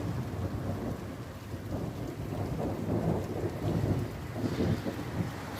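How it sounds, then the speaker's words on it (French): Strong, highly electrical thunderstorm in Linselles, May 2021: thunder rumbles continuously and heavily over steady rain, deep and loud throughout, with no voices. "Le bruit qu'on entend, c'est les poubelles et le tonnerre."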